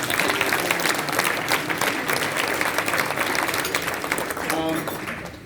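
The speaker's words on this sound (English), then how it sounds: "let's give them a round of applause again" A crowd at a Northfield Township annual event applauds steadily and loudly for the full stretch, a dense wash of clapping that fades slightly near the end, with a voice briefly audible over it.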